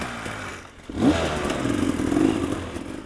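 An enduro motorcycle rides past close by. Its engine clatters, then revs up with a rising, throaty pitch that holds strong through the rest of the short burst.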